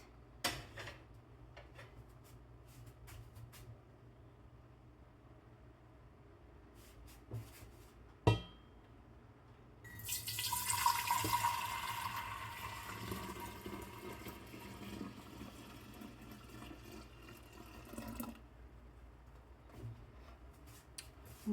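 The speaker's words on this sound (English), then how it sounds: "I'm going to fill this up with cold water and then pour it in." Cold tap water runs hard into a container for several seconds, a loud broadband gush that settles into a steady fill, with a clunk of handling just before. Kombucha-making in a home kitchen.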